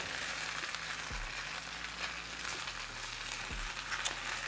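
Quiet, steady sizzling of potatoes and onions frying in a pan over medium-high heat, with a few soft low thumps of stirring breaking the hiss.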